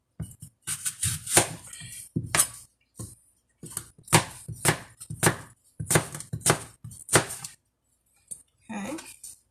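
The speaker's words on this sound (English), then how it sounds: "And this is basically what takes a little time. It's just the chopping." Fruit is chopped with a knife on a board for a fruit salad drink, a string of sharp, irregular cuts in quick clusters with short pauses between them, close and clear.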